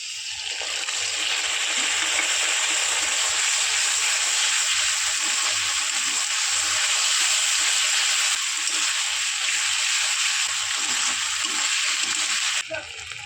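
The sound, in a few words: frying ginger-garlic paste with fried onions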